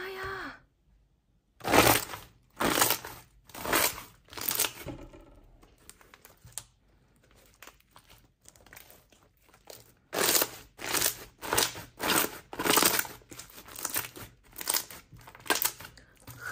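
Crunchy purple slime toy squeezed and crushed in the hands, giving loud, close crackling crunches in repeated bursts with short pauses between squeezes.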